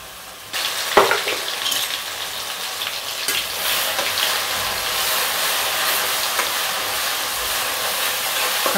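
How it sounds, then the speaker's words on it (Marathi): Eggs go one by one into a pan of hot spiced masala for egg bhurji, setting off a loud, steady sizzle and frying crackle that runs continuously, with a sharp burst as the first egg lands. "त्यानंतर एक एक करून अंडे घालू।"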